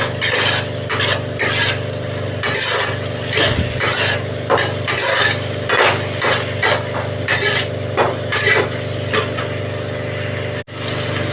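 Spice paste with turmeric and chili fries in a pan for a Bengali foli fish curry, stirred in a steady rhythm of scraping and clinking spoon strokes over a low, constant hum, ending with one sharp knock.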